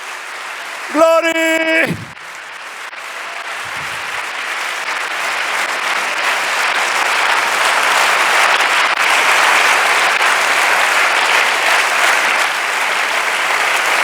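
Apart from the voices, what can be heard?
congregation applauding loudly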